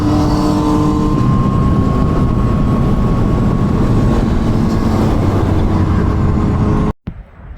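A motorcycle accelerates hard nearby with a loud, rising engine drone that climbs and drops as it shifts up through the gears, then cuts off abruptly near the end.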